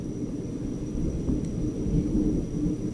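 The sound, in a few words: thunder in video game New Super Luigi U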